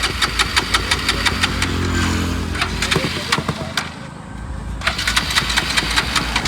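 A Bajaj Pulsar RS 200 motorcycle with a seized engine cranks through repeated failed starts, a rapid rhythmic chugging that stumbles, briefly dies, then catches again, loud and close with voices nearby.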